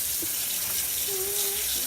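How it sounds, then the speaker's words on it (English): Cold water runs from a kitchen tap over cooked pasta noodles being rinsed of starch, a steady broadband hiss of flowing water with a faint tonal whine partway through. "I rinse my noodles off because of the starch. Some people don't. Just like some people don't wash chicken, but you know, hey, to each his own. So I'm running cold water."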